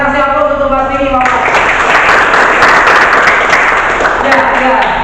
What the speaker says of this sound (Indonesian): Ya, kita kasih aplaus untuk Mas ini, Pak.